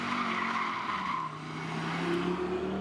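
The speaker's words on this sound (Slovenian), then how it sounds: "Kontrolirano drsenje zadka ali po domače driftanje." A 2023 Audi RS 3 drifts with its rear sliding, the tires squealing in long sustained tones over a five-cylinder engine note, close by and fairly loud.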